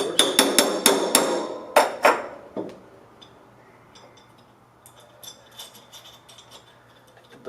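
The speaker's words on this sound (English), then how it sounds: "Stem should pop out. Tap it." Metal tapping as a stem is knocked out of a Flo-Tite Tri Pro series ball valve: a quick run of sharp, ringing hammer strikes up close, then fainter light taps and small metallic clinks.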